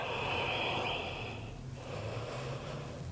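Deep, audible breathing during a hatha yoga pose, a single long nasal exhale that sounds like a soft snort or sigh, close and moderately quiet.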